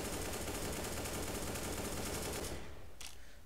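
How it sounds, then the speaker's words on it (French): An MP5-SD firing continuously in the video game CS:GO, a dense unbroken stream of rapid shots emptying the magazine over about two and a half seconds, then a short tail and one faint final burst. "on va faire un test sur la rapidité à vider le chargeur"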